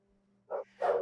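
A pet dog named Maple barks twice in a home kitchen, two short, fairly loud barks close by against a quiet background hum.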